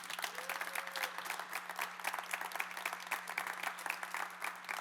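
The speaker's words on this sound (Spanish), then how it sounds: "Dale un aplauso a Jesús." A church congregation claps steadily, a continuous patter of many hands heard alone at moderate distance, with a low steady hum underneath.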